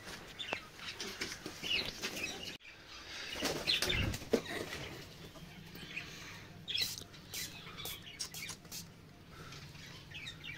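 A full white pigeon flapping its wings in bursts while being colored, with soft rustling, faint chirps and quiet handling noises nearby.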